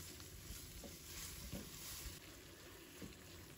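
Green beans sizzle in a wok as a sauce is stirred through them, a steady hiss of frying with soft scraping stir strokes, close and moderately quiet, no talking.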